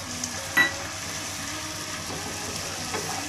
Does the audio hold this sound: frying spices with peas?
yes